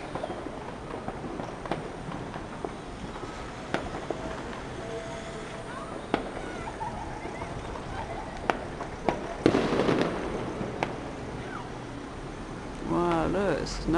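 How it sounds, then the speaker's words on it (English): Scattered pops and cracks of New Year fireworks bursting at a distance over London, heard from a balcony, irregular and sharp, with a louder crackling cluster midway and faint voices underneath. "firework displays."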